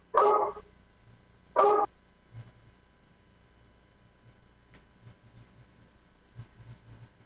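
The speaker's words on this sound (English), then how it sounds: "I'm trying to get the dog to stop barking." Two loud, short bursts of a dog barking near the start, close and separated by about a second, followed by faint low rumbling and background noise.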